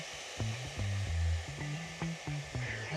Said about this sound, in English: But the hairdryer is working really well